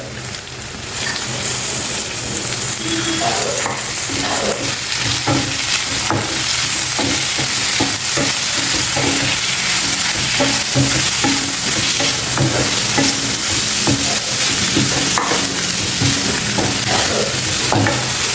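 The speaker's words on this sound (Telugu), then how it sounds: "సన్నగా కట్ చేసి పెట్టుకున్న ఈ పాలకూర ఇందులో వేసేయండి" Chopped spinach frying and being stirred in a hot pan, a steady close sizzle with repeated scraping stir strokes running throughout, no voices.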